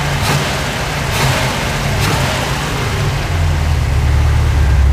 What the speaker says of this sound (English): I can blip the throttle.